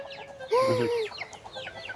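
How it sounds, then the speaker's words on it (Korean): A chicken on a small river island in Vietnam's Mekong Delta gives a short, close cluck-like call, standing out briefly over quiet outdoor background. "아 닭인가? 오리가 아니라?"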